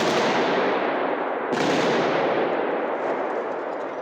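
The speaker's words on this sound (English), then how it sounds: "The sound of gunfire echoes inside an entertainment complex on the outskirts of Moscow." Gunfire echoes inside an entertainment complex on the outskirts of Moscow, a dense continuous roar of shots and reverberation that stays loud throughout with a sharp break midway.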